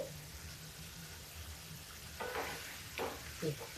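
Tomatoes dropped into a pan of cooking masala for a kabuli matar curry, with a soft steady sizzle, then louder bursts of frying and stirring toward the end.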